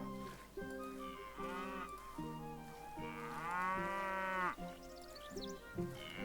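Several cows in Stronghold moo one after another, long drawn-out lows overlapping at close range, one call swelling louder in the middle.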